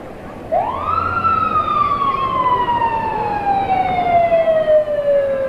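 A classic Malone, New York fire truck, Engine 111, sounds its siren in a parade: a single wail that rises sharply and then slowly falls, loud and close over street noise.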